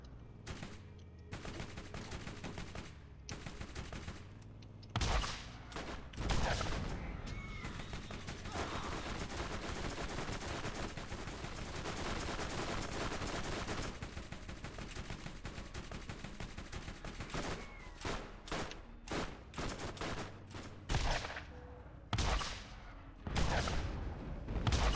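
Gunfire in the Borderlands video game aimed at wind turbines: sustained rattling volleys and single shots for most of the stretch, with a few heavier blasts, loud and continuous, then sparser near the end.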